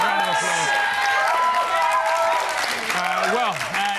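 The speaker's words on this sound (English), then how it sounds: "give her a big round of applause" Studio audience applause with cheering for a guest on a Big Brother spin-off show, sustained clapping beneath a loud speaking voice that talks over most of it.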